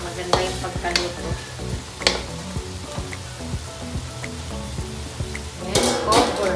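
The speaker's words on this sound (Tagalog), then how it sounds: "Halo lang, hahalo-haloin para maganda yung pagkaluto." Pork dinuguan being stirred in a pan, with a spoon scraping and clinking against the metal in steady strokes over a soft sizzle, and a sharper clatter near the end.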